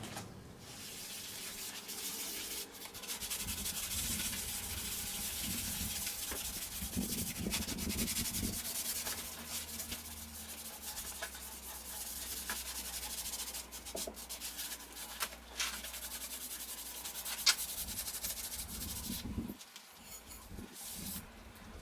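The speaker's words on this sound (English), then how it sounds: "going to give it the once over with the little kitchen scourer" Scrubbing a rusty anvil with a small kitchen scourer to loosen the remaining rust: continuous close rasping and rubbing strokes over wet metal, steady and fairly quiet, with occasional knocks and splashy touches.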